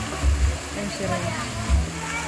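Near a small pool on a farm, a waterfall pours in a continuous rushing splash, close and fairly loud, with low rumbling surges, while a person talks over it.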